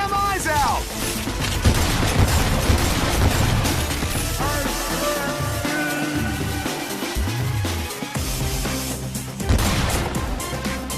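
Gunfire and combat noise in the game Lollipop Chainsaw: a busy, continuous clatter of shots, crashes and mechanical sounds mixed with game music and shouted voices throughout.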